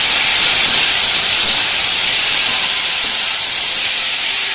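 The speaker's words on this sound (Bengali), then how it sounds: "সামান্য পরিমাণ জল দিয়ে দিচ্ছি আর একটু কষিয়ে নিচ্ছি ভালো করে।" Water poured into a hot pan of frying Bengali curry base gives a loud, steady hiss of sizzling steam that holds evenly throughout, with no talk over it.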